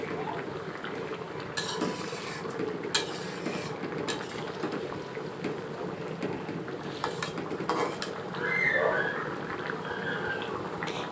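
Spatula stirring paneer curry in a pan, steady scraping and clinking of metal on the pan with a bubbling liquid texture throughout, while a person talks alongside.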